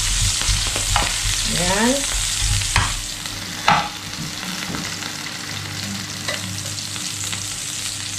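Onion sizzles steadily in a hot pan as a utensil stirs and scrapes it, with a few sharp knocks against the pan, close and fairly loud; one brief word is spoken.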